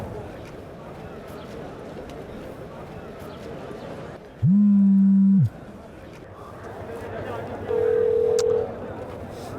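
An unanswered phone call rings out in electronic tone bursts, one lower-pitched pulse followed a few seconds later by a higher one, over a quiet, murky background.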